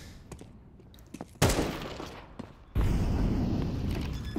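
Gunfire in a professional CS:GO match on the Mirage map, a few sharp shots early and then two loud bursts of fire, the second sustained with lingering reverberation.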